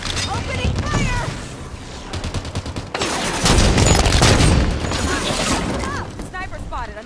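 Gunfire in Halo 5 during a fight against Promethean Forerunner enemies, with rapid, dense bursts of shots and mechanical clatter filling the scene close by, heavy at times, while voices call out over the combat.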